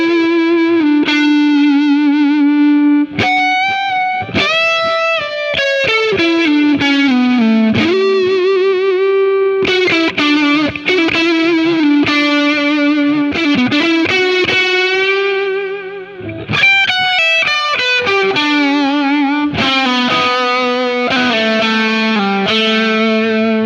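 A 1970s Fender Stratocaster playing a sustained, singing melody through effects and distortion, with chorus shimmer and whammy-bar bends. The guitar is loud and continuous and plays alone, with no voices.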